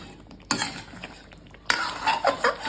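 Kashmiri alur dom, spiced potatoes, being mixed in a pan, with two bursts of scraping and clattering of a spoon against metal over a low sizzle.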